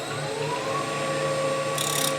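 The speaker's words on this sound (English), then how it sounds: "So let's go back to our shallow fluted gouge." A woodturning lathe spins an end-grain wooden goblet being shaped with a shallow fluted gouge, producing a steady close motor hum with a brief hiss of cutting near the end.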